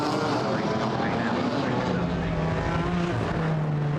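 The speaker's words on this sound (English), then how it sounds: "Everybody blasting through, the pit officials making sure that everybody is behaving themselves down the pit road" GT4 race cars blast down the pit road at Brands Hatch during a 2019 European Series race, with a constant, dense engine drone and shifting engine tones passing close by.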